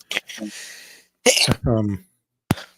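A sharp sneeze bursts out, followed by brief talking and a short breathy sound, all close to the listener.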